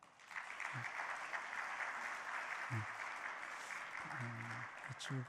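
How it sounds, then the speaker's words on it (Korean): A church congregation applauds during a Sunday morning service, a sustained wash of clapping heard from across the sanctuary, fairly soft and even, with brief voices breaking through in the middle and near the end. "박수 한번 하시죠"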